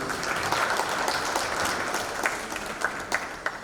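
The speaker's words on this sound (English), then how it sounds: "please give a round of applause for yourself." An audience at an awards ceremony in Bali claps steadily in a dense, close wash of applause, with a few sharper individual claps standing out near the end.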